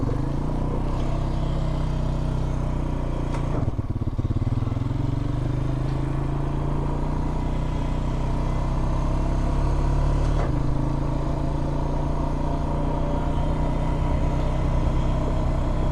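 A 2004 Honda Rancher 350FE ATV engine while riding on rural roads in the Catskills, a steady close rumbling drone with slight pitch shifts and occasional rattles, continuous throughout.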